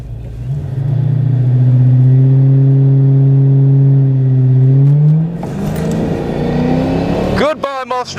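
A 5.7 drag car against a Mustang 5.0 at a drag strip at night: a loud, close engine holds a steady low drone, then revs hard and climbs sharply through the gears as the cars launch, with faint voices underneath.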